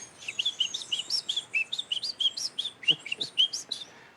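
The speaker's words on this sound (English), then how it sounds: "There is one here where we are that is called the Munchique wood wren that lives in the highlands." A Munchique wood wren sings in the Colombian highlands, a clear, close series of bright whistled notes repeated in a quick, lilting rhythm, with faint background noise.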